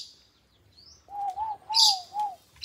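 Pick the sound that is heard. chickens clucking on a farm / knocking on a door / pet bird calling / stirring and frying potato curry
pet bird calling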